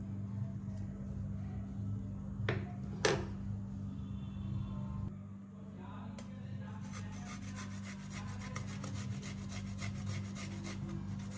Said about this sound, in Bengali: আদাটা একটু ঘষে নিলাম